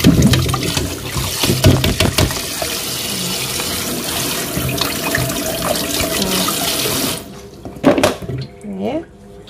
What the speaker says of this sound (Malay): Sekarang saya isi air bersih sebab saya nak start rebus lah.